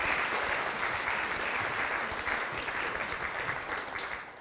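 Sustained audience applause on stage at a magic show as a performer is welcomed, dense steady clapping throughout at moderate loudness with no talk over it.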